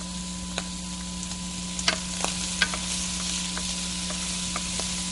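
Shrimp sizzle steadily as they fry in a pan for a shrimp linguine, with scattered clicks and scrapes from stirring over a constant hiss and a low kitchen hum; no one speaks.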